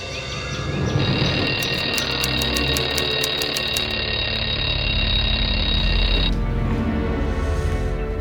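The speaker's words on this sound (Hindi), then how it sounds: "अलार्म भी मुझे ही बंद करना पड़ता है, लगाते क्यों हो?" Alarm clock ringing loudly in a bedroom for several seconds, a steady repeating electronic tone that continues without pause before cutting off near the end.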